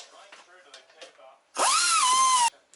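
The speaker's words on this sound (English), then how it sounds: "I'm just going to go in now with the flapper wheel and clean it up" Drill spinning a flapper wheel against an RB25DET cylinder head during mild porting, a loud steady whine of about one second, with quiet talk before it.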